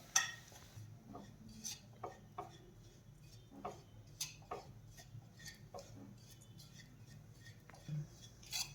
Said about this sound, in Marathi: बेसन पीठही यामध्ये छान परतून घ्यायचं आहे